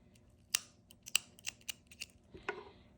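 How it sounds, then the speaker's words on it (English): Scissors snip through knitting yarn in a quick series of crisp, close clicks and cuts over a quiet room. "And then you cut your yarn."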